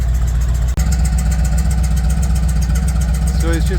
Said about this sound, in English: So he's just going to let it run here for a bit, check for some leaks.